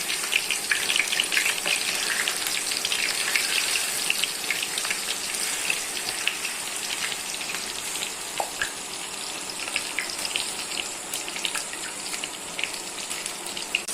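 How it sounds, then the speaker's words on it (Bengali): Pieces of rohu fish, rubbed with turmeric and chili, frying in hot oil: a steady, dense sizzle with fine crackling pops that runs unbroken throughout, close and fairly loud, with no talking. "তেলগুলা গরম হয়েছে, মাছগুলা ভেজে নিচ্ছি"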